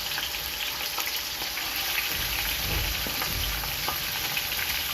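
Chicken sizzling and crackling in hot oil with ginger, garlic and green chilli paste for biryani, a steady, close frying hiss that continues for several seconds with no voices.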